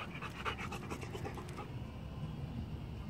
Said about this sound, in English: That's a bad dog.